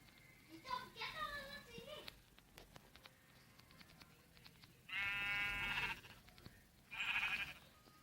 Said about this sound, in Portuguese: Bom, tem essa ovelha aqui,